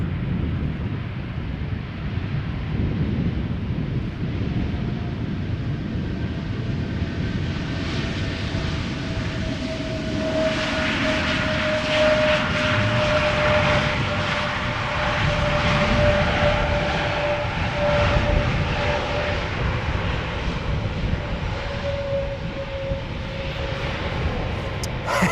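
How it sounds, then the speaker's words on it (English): Passenger airplane landing at Amsterdam Schiphol Airport, a steady broadband engine roar sustained throughout with a thin whine rising through the middle, fairly close and continuous, no voices. "I'm also going to enable image stabilizer after this airplane has finished its landing."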